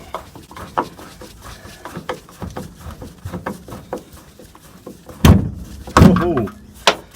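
A Volkswagen Beetle car door being handled during a restoration. Scattered light knocks and rattles are followed by two loud, close thuds near the end, with faint voices in the background.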